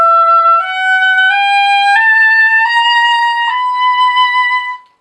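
A solo oboe slowly plays just the melody line of a Ferling etude, sustained clear notes stepping upward one after another, loud and close with no talking.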